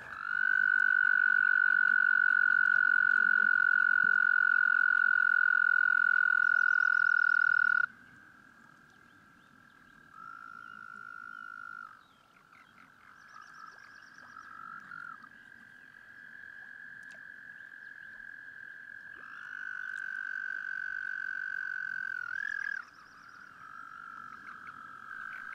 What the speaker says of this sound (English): Male toads also sing to attract females. They inflate their air sacs and produce a loud trill.